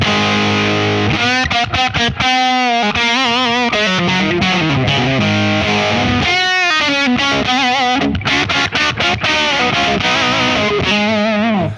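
A heavily distorted electric guitar with pickups in humbucking mode plays thick, compressed chords and riffs through a small, loud rig, loud and sustained with short choppy breaks.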